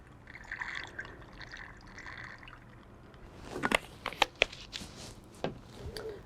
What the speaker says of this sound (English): And I'm just going to pour a little bit in.